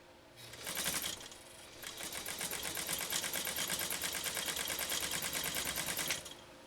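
Necchi SuperNova sewing machine stitching a wide zigzag, a fast, close mechanical chatter that starts in a short burst, pauses briefly, then runs steadily for several seconds before stopping, with no talk.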